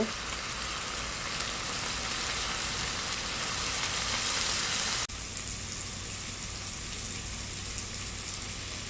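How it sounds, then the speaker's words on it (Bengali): Shrimp curry sautés in hot oil with chili, turmeric and coriander powder, giving a steady, loud broadband sizzle like rain that runs without a break and drops slightly in level partway through. "দিয়ে দেব মরিচের গুঁড়া, দিয়ে দেব অল্প ধনিয়ার গুঁড়া। এবার ভালো মতো কষিয়ে নেব।"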